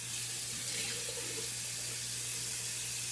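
A bathroom tap runs steadily for a rinse during a wet shave, a continuous close hiss and splash of water filling a sink with no speech.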